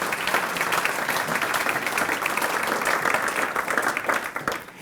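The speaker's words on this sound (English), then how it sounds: "let's just give a round of applause for them." An audience at a regional chamber morning event gives a round of applause, dense steady clapping from many people filling the whole stretch before tapering slightly at the end.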